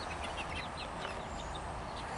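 Chickens housed in a converted 1959 Chevy pickup cluck softly in short, scattered calls over a steady background hiss, faint and somewhat distant.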